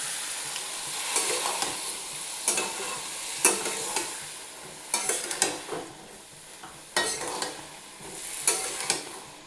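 Papaya and chana dal curry stirred and sautéed in a pan, a soft sizzle under repeated scraping strokes of a spoon, bursts arriving every second or so, close by.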